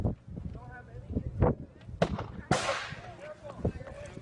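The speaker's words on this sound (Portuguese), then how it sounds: "Dá para escutar uma pequena explosão claramente." A small explosion bursts out with a sharp, broad crack followed by a rushing, fading tail, preceded by several duller thumps and mixed with voices talking nearby.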